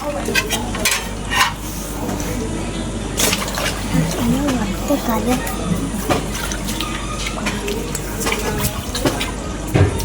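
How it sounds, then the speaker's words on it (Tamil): Stingray fish pieces rinsed in water, with splashing, sloshing and swirling of water and the pieces handled in a bowl throughout, under a person talking. "மறுபடியும் தண்ணியில் போட்டு ரெண்டு அலசு அலசு எடுத்துக்கலாம்"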